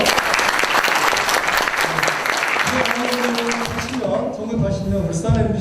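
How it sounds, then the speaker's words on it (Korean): An audience at a book concert talk event in Changwon applauds loudly and steadily, dense clapping fading toward the end as a voice begins speaking over it. "일단 큰 박수 한번 부탁드리고요"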